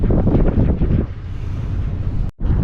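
Heavy wind buffets the microphone in loud, continuous gusts while fishing, with a brief dropout near the end before the roar resumes.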